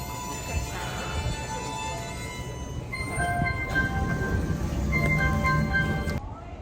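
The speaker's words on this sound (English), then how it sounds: "The Tokyo train is so new. Very beautiful green color. Fast speed." A green Tokyo Shinkansen high-speed train runs with a steady rumbling roar inside the carriage, joined by high tonal whines and electronic tones that swell midway before cutting off near the end.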